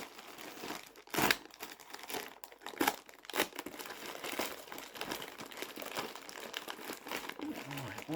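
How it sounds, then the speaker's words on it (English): Packaging crinkles and crumples close up as a box is carefully cut open during an unboxing, with sharp rustling bursts and tearing sounds and faint talk in the background. "I don't want to cut through the packaging."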